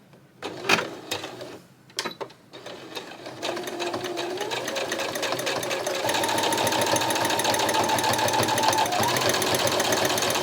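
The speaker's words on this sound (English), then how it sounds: "I'm stitching right in the ditch, right alongside of the folded hem." A sewing machine runs a stitch along a folded hem in a clothing alteration, starting with a few hesitant bursts, then settling into a steady, fast, close mechanical whir that holds to the end.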